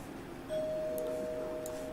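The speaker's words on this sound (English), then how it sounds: "Doorbell." A doorbell in a city-building video game, one sustained electronic tone that starts a moment in and rings steadily over soft background sound, with no talking.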